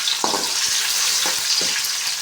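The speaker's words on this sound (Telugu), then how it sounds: "ఇవి బాగా వేగనిద్దాం, ఎర్రగా అయ్యేంత వరకు" Curry leaves and green chillies frying in hot oil for an egg tomato curry, a steady close sizzle with a few scraping stirs of the spoon, no voices.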